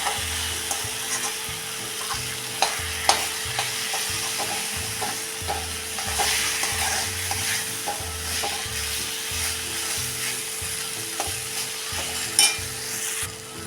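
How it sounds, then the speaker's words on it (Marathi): Eggplant sautéing with salt in a pan while a spatula stirs and breaks it up, a constant sizzle under rhythmic scraping and mashing strokes with occasional sharp taps. "ते परतत परततच वांग आपण फोडून घ्यायचं आहे"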